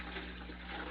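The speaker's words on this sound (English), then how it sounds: "Pouring my milk into my pot." Raw milk pours steadily into a pot for a two-gallon mozzarella batch, a continuous close liquid gush with a low hum underneath.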